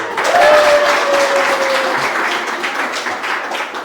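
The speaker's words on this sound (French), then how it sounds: "Applaudissez pour sa valeur." Guests at a civil wedding break into warm applause, a dense steady wash of many hands clapping at once, strongest at the start and easing slightly, with a brief high tone gliding across early on.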